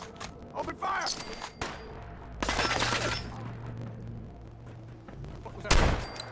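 Bursts of gunfire in the Fallout 4 wasteland, with sharp volleys around the two-second mark and again near the end over a low rumbling game backdrop.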